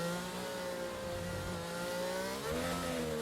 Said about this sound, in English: You can just hear the revs there.